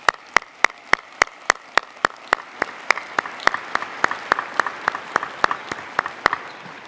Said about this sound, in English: Let's give all of our alumni a big round of applause.